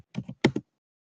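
Several quick clicks of computer keyboard keys, grouped in two short bursts, close and clear, with a brief silence after. There is no talk.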